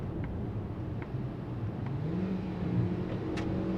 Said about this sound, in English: try to listen to the engine.